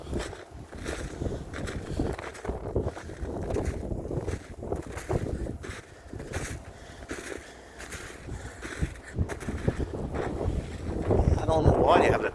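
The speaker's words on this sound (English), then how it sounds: "It's windy out here today." Wind gusts across the microphone outdoors at a historic iron furnace site, rumbling steadily and buffeting in waves. It runs under people talking close by.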